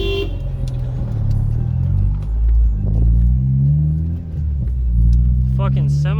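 A semi-truck roars through an intersection close by, its heavy engine rumble swelling and fading as it speeds past, with a brief horn-like toot near the end.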